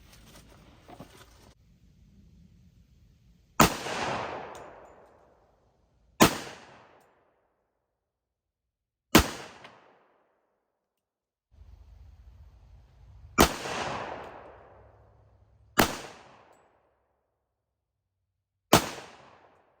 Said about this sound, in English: we'll be shooting the hardball first